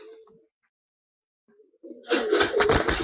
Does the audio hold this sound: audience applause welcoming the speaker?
no